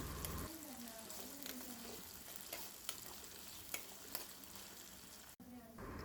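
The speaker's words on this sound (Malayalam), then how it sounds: "ക്യാപ്സിക്കം വേകാൻ വിടണ്ട, ജസ്റ്റ് ഇളക്കി കൊടുത്താൽ മതി." Cauliflower and capsicum for gobi manchurian are stirred in a frying pan. Faint sizzling runs under soft scraping and clicking of a spoon against the pan, heard quietly and close.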